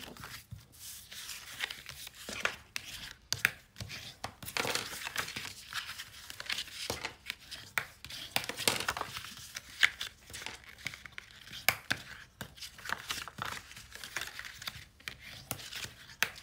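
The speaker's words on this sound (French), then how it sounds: "je marque bien mes plis" Paper is folded and creased for an explosion box, making irregular crinkling rustles and sharp pressing scrapes in quick bursts, quiet and close, with no talk.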